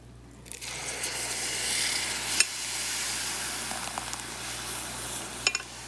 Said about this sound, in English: So now we're going to add our mushroom puree.